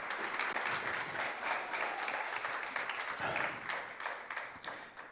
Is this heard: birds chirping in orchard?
no